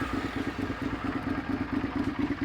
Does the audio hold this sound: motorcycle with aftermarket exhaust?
yes